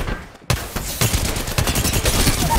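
Gunfire in the video game Apex Legends on the World's Edge map: loud, rapid bursts of shots cracking in quick succession after a brief quiet start, dense and close throughout.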